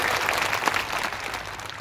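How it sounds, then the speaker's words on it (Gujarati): Applause from an audience at a Mahashivratri religious discourse, a steady dense wash of clapping lasting throughout, fairly close and without speech over it. "તો આ વાત જો સારી લાગી હોય તો જરા તાળીઓથી સ્વાગત કરી દો"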